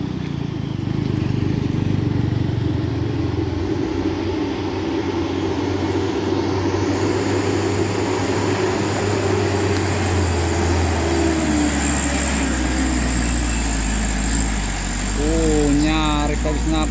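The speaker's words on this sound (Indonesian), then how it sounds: "di sini ada truk cold diesel counter." A Colt Diesel truck labours up the steep, rocky Batu Jomba climb, its diesel engine droning loud and continuous with a deep rumble that shifts in pitch partway through, while people talk over it.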